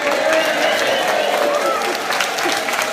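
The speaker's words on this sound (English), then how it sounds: "can everyone please give a big cheer to everyone watching on YouTube?" Loud, steady clapping and cheering from an audience in a London gathering of entrepreneurs, a dense unbroken wall of applause from start to finish.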